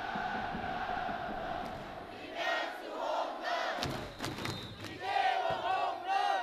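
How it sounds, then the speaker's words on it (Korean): Baseball stadium crowd cheering loudly and continuously, with chanting voices and surges of collective shouting at a professional game, heard from within the stands. "관중들의 뜨거운 응원전으로 경기 시작부터 열기가 한껏 달아올랐습니다"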